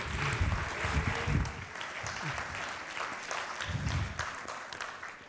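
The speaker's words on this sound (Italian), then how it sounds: "Fate un grande applauso ad Armand Mosenzadeh." A science-communication contest audience in Trieste applauds a contestant, a dense steady clapping that holds at moderate level throughout, with some low thumps and murmuring beneath it.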